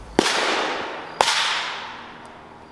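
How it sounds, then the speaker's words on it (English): A .50 BMG round's primer pops in a fire: two sharp loud cracks about a second apart, each trailing off in a hissing wash, with a faint third snap at the end. "I think the primer just went separately"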